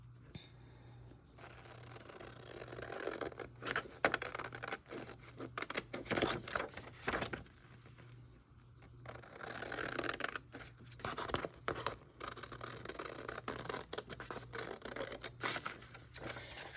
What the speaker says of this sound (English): I could probably cut him out too.